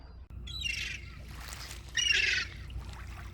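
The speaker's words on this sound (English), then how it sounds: "Noisy seagulls." Two harsh seagull squawks ring out close by on the foreshore at Portland, Dorset, over a low, rumbling background, the second louder than the first.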